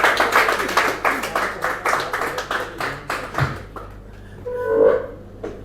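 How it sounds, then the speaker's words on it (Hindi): An audience at an open mic poetry event claps for poet Gopal Das Neeraj in a steady, rhythmic beat for about three and a half seconds. The clapping then fades to quiet, with a brief tonal voice-like sound near the end. "एक बार जोरदार तालियां गोपाल दास नीरज के लिए।"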